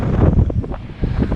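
Strong storm wind buffets the microphone on an exposed shoreline while waves crash against breakwaters, making a loud, continuous roar with rolling surges of surf and no voices.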